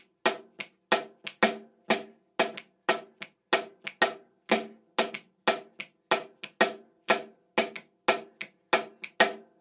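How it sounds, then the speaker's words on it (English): A samba caixa snare drum plays a steady syncopated, clave-like pattern of crisp, bright strokes, each with a short rattling snare decay, repeating evenly and closely miked with no voices. "Let's go to the caixa part, or the snare part first."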